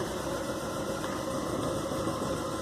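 Car engine running on a fifth-generation CNG gas kit with a Landirenzo Omegas system and mistuned parameters, misfiring: a steady, close idle with a rough, uneven knock throughout.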